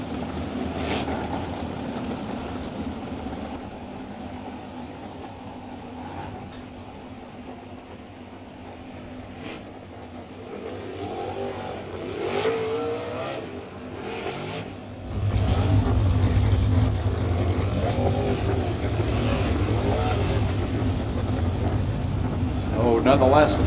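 Race cars circle a dirt oval at Ohsweken, their engines droning and swelling as they pass, louder toward the end, under continuous commentary.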